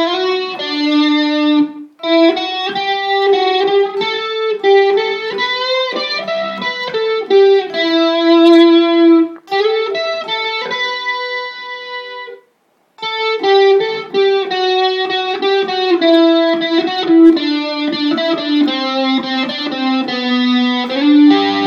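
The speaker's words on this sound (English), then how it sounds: "So that solo all the way through, played slowly, should sound something like this." A song's guitar solo is played slowly on an electric guitar through distortion and effects, sustained singing notes and bends flowing in phrases with short pauses, up close and alone.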